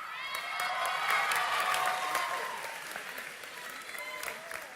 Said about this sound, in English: Let's have another little round of applause for Jacqueline Marston.